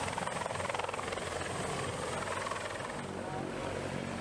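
A helicopter flies overhead with a steady rotor thump and turbine whine, a fairly faint, continuous drone from a sea rescue setting.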